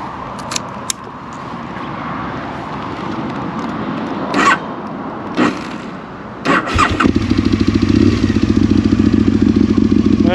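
An Aprilia RSV Mille motorcycle engine cranking over with clicks and starter whirrs, then catching and settling into a loud, rough, pulsing idle close by.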